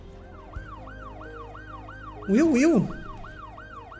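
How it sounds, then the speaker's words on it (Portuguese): Ambulance siren from the Cities: Skylines II city-building game, a steady rising-and-falling wail repeating through the whole stretch, with a voice briefly talking over it partway through. "Cadê a ambulância? Opa, a ambulância aí no cara."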